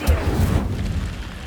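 Incendio fire spell cast in Hogwarts Legacy, a short low whooshing burst of flame that fades within a second and a half, loud and close.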